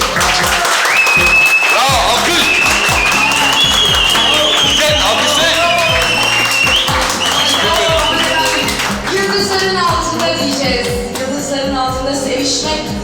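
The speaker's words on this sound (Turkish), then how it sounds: "şimdi de büyük alkışlarınızla Zeynep'i sahneye davet ediyoruz" An audience claps loudly to welcome Zeynep onto the stage at a show. The applause blends with loud music and a voice, forming a continuous wash throughout.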